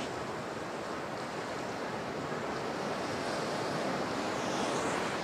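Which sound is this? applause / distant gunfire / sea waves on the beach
sea waves on the beach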